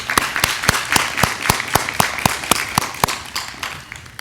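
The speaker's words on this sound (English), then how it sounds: "let's give her a round of applause" Scattered hand claps at a fire academy graduation, sparse and fairly close, with roughly a dozen distinct sharp claps at an uneven, slowing pace and no voices.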